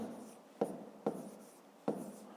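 A pen writes a number by hand on paper during a fifth-grade maths exercise, soft scratching strokes punctuated by three sharp taps as digits are formed, quiet and close.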